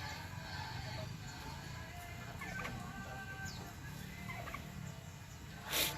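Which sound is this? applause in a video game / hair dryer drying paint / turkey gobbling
turkey gobbling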